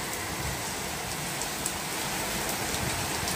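Rain falls steadily on an open balcony, a dense, even hiss of drops with no pauses and no voices.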